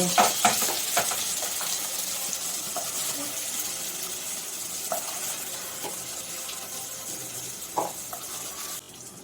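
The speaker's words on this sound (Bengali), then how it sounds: "এই তেলেতে সিমলা মির্চিগুলো ভেজে নেব" Capsicum fries in the oil left over from frying paneer for a vegetarian dish, giving a soft, continuous sizzle with scattered light clicks and clatter.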